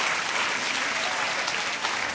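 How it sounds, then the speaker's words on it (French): An audience claps steadily at a church gathering after musicians perform, moderately quiet, even applause with no speech on top. "Si vous voulez applaudir, applaudissez."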